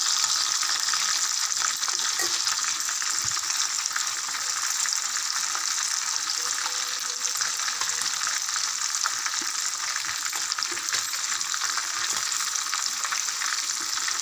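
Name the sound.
tandoori chicken frying on low flame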